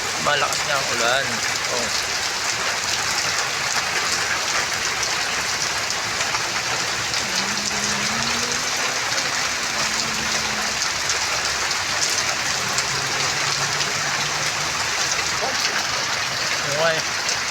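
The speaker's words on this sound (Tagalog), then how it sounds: "malakas nga ang ulan." Heavy typhoon rain pours down in a steady, dense hiss that fills the whole stretch, with faint voices briefly audible underneath.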